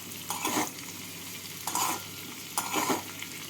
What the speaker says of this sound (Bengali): এবার আলু আর উচ্ছের সাথে নাড়াচাড়া করে নেবো